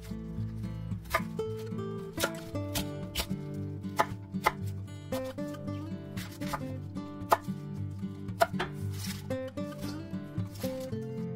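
A knife chops cabbage into bite-size pieces on a board for cabbage kimchi, a long run of crisp, fairly rapid cuts in an irregular rhythm, close and clear, with music playing throughout.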